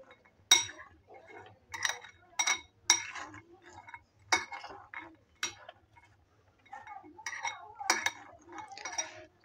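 Spoon clinking and scraping against a bowl while chaat is mixed, a string of bright, close taps in irregular bursts separated by short quiet gaps.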